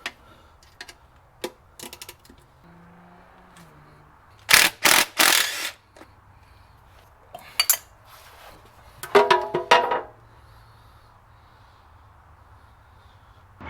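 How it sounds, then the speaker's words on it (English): Ratcheting wrench working a 10mm transmission oil pan bolt on a 2006 Nissan, quick sparse clicks followed by two short bursts of fast ratcheting, separated by quiet pauses. "I'm going to go ahead and try to get it with the ratcheting wrench"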